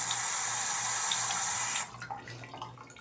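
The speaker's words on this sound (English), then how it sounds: "Now you need to wash your hands." Tap water runs steadily into a sink while hands are washed. The hiss is loud and close, then it cuts off and leaves faint drips and handling noises, with no talking.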